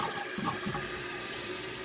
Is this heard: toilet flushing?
yes